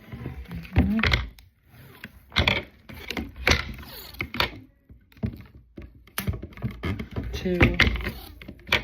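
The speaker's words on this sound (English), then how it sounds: "You're just gonna strap this white tape around it, or whatever color." White tape is wound around a 36-inch colorguard rifle, producing close, intermittent taping thunks and sticky pulls in short bursts, while a person talks over it and counts.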